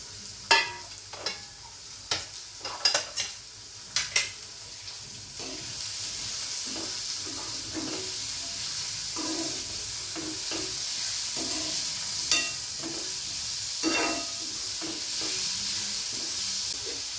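Sliced onion frying in a pan with garlic for a bhārangi vegetable dish: a run of sharp spoon taps and clinks, then a steady sizzle with intermittent scraping strokes, close and clear, no talking.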